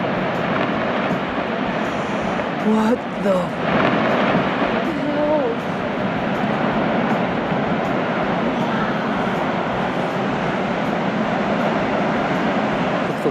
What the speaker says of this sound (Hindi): इसमें बर्फ के टूटने और गिरने की आवाज